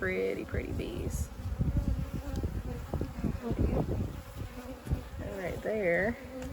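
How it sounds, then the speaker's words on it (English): A close, continuous hum of many bees, with a few faint voice-like sounds drifting in and out. "Oh, that's some pretty bees."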